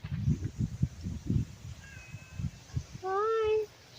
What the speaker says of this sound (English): You hear her? You see her? Here's Kitty.